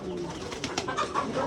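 Pigeons on a rooftop farm give soft, low cooing at close range in a few short, throaty bursts, set against a faint steady background hum.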